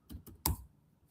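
Keystrokes on a computer keyboard, a few separate taps followed by one sharper, louder press, then quiet, with no talking.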